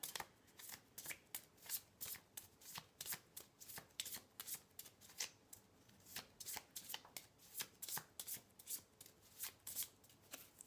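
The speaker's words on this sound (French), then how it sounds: "je vais tirer les cartes des mangas" Oracle cards being shuffled by hand in a quiet room, a close and fast rhythmic run of papery riffles and slaps repeating steadily throughout.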